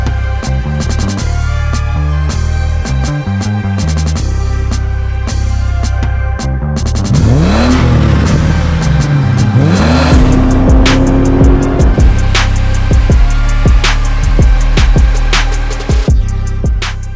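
A 2007 Ford BF Falcon Mark II XR6 engine revs loudly and close, rising and falling through several sharp throttle blips over a steady idle, with no talking.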